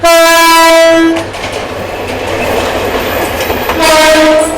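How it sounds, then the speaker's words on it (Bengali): Loud horn blasts from the Kishorganj Express locomotive at a Bangladeshi station, a long sustained note that drops away, then rumbling rail noise before the horn sounds again. "আর এই ইঞ্জিন কিন্তু আমাদের ট্রেনের সামনে এখন অ্যাটাচ করা হবে"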